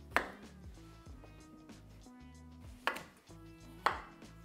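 Knife chopping cucumber on a cutting board, a few sharp close thwacks spaced about a second apart over a low background, with no talking.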